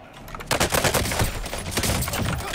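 Rapid gunfire in the Call of Duty Warzone video game, a burst of repeated shots starting after a brief lull and continuing in a dense, loud rattle with game ambience.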